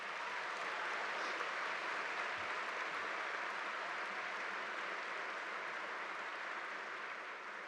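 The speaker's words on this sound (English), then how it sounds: "how about a round of applause for all of our co-pilots over the last 4 years?" Sustained applause from a large crowd at a high school graduation ceremony, a steady wash of clapping that fills the whole stretch at moderate level with no voices over it.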